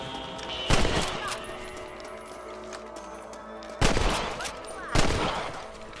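Rifle shots ring out while hunting rabbits in the video game Red Dead Redemption, three loud, sharp reports spaced seconds apart, each with a ringing tail, over a quiet outdoor game ambience.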